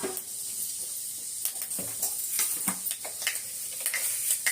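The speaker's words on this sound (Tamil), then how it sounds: "இப்போ எண்ணெய் ஊற்றியாச்சு, கொஞ்சம் வெந்தயம் போட்டுக்கலாம்." Fenugreek seeds crackle in hot oil for a garlic kuzhambu, a steady bright sizzle with scattered sharp pops and spits throughout, close and fairly quiet, with no voices.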